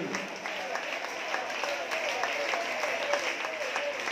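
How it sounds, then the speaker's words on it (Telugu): Loud, rapid clapping from a worship congregation with raised hands fills the space continuously, with a voice leading over the steady applause. "చేతులు పైకెత్తి గట్టిగా చప్పట్లు కొడుతూ వాక్యమే వాక్యమే"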